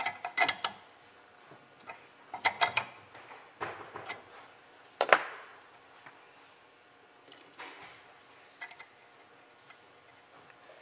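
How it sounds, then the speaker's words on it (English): A 15mm wrench snugging the nozzle body on a Lynx spray gun, producing scattered metallic clicks and short ratcheting scrapes in quiet bursts, close up with pauses between turns. "turn the gun body using our 15mm wrench. I'm going to snug up the nozzle body."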